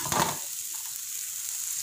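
Capsicum with grated carrot fries in a pan, a brief burst of stirring and crackle at the start settling into a soft, steady sizzle.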